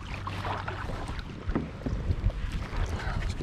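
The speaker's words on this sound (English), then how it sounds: "Next level paddling techniques." Paddle strokes splash and churn the water beside a small fishing boat while jugline fishing for catfish, with steady wind buffeting the microphone and a few sharper splashes standing out up close.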